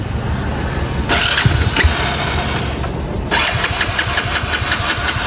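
A motorbike is kick-started and its engine catches, then keeps running with a loud, close, steady chugging idle and a rapid rhythmic throb that grows louder partway through.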